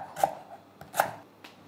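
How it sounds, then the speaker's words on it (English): A knife chopping through lemongrass stalks on a board, two or three crisp, close cuts spaced irregularly, with no talk. "Now, to prepare the lemongrass, we'll cut off the top."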